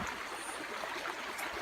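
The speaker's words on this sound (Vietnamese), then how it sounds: "Đấy, nhiều suối lắm." A forest stream near a cooking spot in deep woods flows with a soft, steady rushing hiss, faint and unbroken throughout, with no speech.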